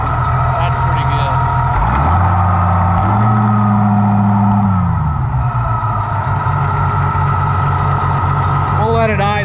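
A troubled Oliver 1650 tractor engine idles steadily after being restarted, a loud, continuous low drone that sags briefly in pitch and then settles back, with possible voices beneath it.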